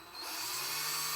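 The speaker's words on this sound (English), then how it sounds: "I can probably speed this up with my drill." A power drill spins up and runs steadily at high speed, driving screws into parts of an ARRMA Kraton EXB RC car while a wheelie bar is installed, a close, continuous whine with no talk.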